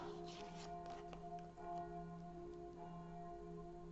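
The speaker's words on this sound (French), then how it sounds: "les cloches de l'église qui sonnent 19 heures, qui nous accompagnent." Church bells ring out at seven in the evening, sustained tonal strikes layering into a steady resonant hum that continues throughout, moderately loud and without any talking.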